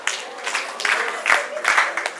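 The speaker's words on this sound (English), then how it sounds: "One big clap for yourselves." A group of students at a climate change training session at Prampram Technical Training Institute gives a few short bursts of clapping, with a voice in the room between the claps.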